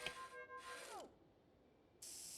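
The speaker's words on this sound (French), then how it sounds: "On refait une jolie tête en imprimante 3D." A 3D printer machine rebuilds a head in the hospital management game Two Point Hospital, giving bursts of whirring, ratcheting mechanical noise with a descending sweep, then a pause and a sharp hissing burst at the end, with no talk.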